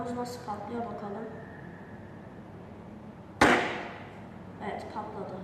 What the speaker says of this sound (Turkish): İçine su olmayan balonumuz nasıl patlıyor bakalım.